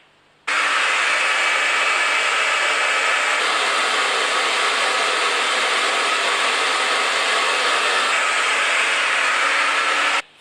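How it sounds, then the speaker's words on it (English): A hair dryer with a cleaver taped to it switches on abruptly and runs for about ten seconds as a loud, steady broadband whoosh with a slight change in pitch partway through, then cuts off. "do not ever use a cleaver taped to a hairdryer"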